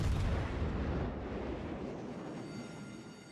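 Heavy battleship gunfire in a naval warfare video game, a booming low rumble that starts loud and slowly decays into a long rolling tail, with no voices over it.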